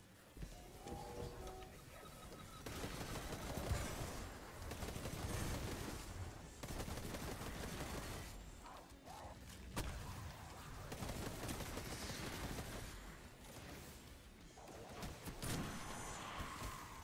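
Rapid gunfire from a Destiny 2 firefight, a dense, sustained barrage of shots and explosions layered together at moderate distance with little pause.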